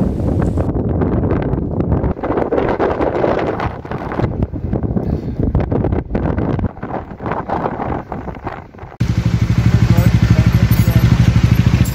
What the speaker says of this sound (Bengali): আর এখানে প্রচণ্ড জোরে হাওয়া বইছে।